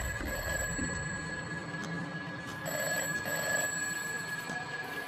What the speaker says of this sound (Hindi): एक लैंडलाइन के बजने की घंटी सुनाई दी जो उसी स्टोर रूम से आ रही थी